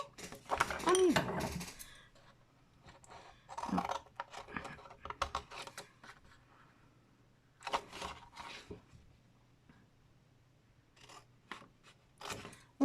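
Scissors snipping and rubbing through paper while making a 3D photo frame, in several irregular bursts of close, soft cutting with quiet pauses between.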